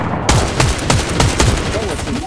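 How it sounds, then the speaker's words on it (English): Gunfire in the video game Fortnite, five or six sharp loud shots at a steady rhythm close up, each with a short ringing tail, over continuous game background noise. "shot him once"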